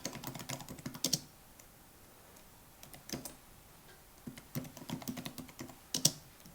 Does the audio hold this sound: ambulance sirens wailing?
no